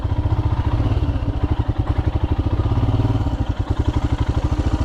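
A Royal Enfield Himalayan motorcycle, a 440-pound adventure bike, chugs over a big root on rocky Montana singletrack, its engine thumping in a steady, close, loud pulse with faint clatter and no talking.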